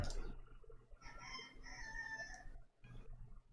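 A rooster crows once in a drawn-out call, faint and somewhat distant, with a soft thud just before it and quiet room noise after.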